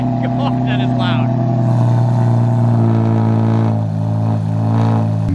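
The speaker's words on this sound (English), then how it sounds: "cold start on a Mercy with the AGX exhaust" A Mercedes with an AGX exhaust cold-starts into a loud, deep, steady drone, with a few sharp revs blipping over the low rumble right up close.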